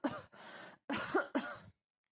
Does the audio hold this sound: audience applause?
no